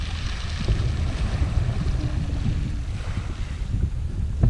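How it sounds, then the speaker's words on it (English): Sea water moves and washes along a UK shore as the tide comes in, a steady, soft rushing wash mixed with gusty wind buffeting the microphone, with no voices. "There's a bit of movement in the water now, so obviously as the tide's coming up, the water's pushing through."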